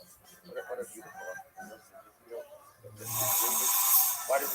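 Snoring in a Mattress Firm mattress advertisement: a sleeper's low, rasping snores sit under a voice talking, followed by a louder hissing, snorting breath near the end.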